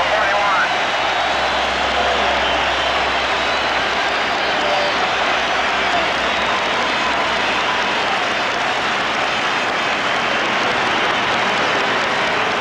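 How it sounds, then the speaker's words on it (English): Stadium crowd at Shea Stadium giving pitcher Tom Seaver an ovation during the 1969 World Series, a dense, roaring wash of cheering and applause that holds steady and loud throughout, with a broadcaster's voice beneath. "watch the crowd respond here at Shea Stadium"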